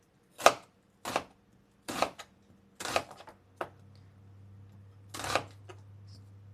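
An onion is chopped with a knife, about six sharp, separate strokes on a cutting board at uneven intervals, close and distinct against a quiet background hum.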